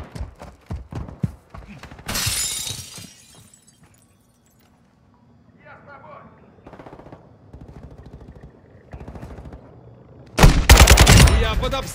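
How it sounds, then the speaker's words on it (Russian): Bursts of rapid gunfire in the game Warzone DMZ crackle in and out, with a sharp volley early on and a loud, dense burst near the end, amid quieter game sounds. "Слышишь, все-таки оттуда стреляет кто-то."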